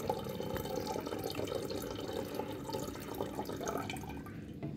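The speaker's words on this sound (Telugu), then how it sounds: "ఇక్కడ వాటర్ పోస్తుంటే ఇక్కడ లెవెల్స్ అనేవి మీకు మనకి బయటకు కనిపిస్తుంది అన్నమాట" Water pours into a Morphy Richards Flamio electric kettle with a quiet, continuous trickling and dripping, heard close but faint and without talk.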